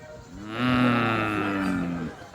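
A cow gives one long, loud, low moo that swells and then fades over about a second and a half, heard close and alone.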